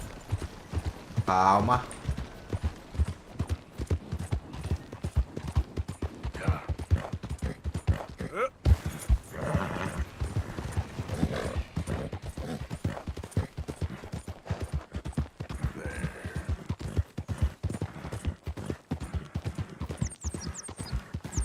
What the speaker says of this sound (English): Vamos pilotar o cavalo, papai.